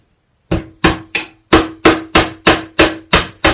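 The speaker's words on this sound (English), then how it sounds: "So I'll knock them all the way through the plank" A hammer strikes nails through a pallet plank, about ten sharp, ringing knocks in a steady rhythm after a brief silence, loud and close.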